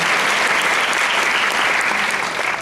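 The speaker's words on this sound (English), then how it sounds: "should we give him a clap?" An audience claps at a development conference, a dense, sustained round of applause from many hands, loud and even from start to finish and tapering only slightly at the end.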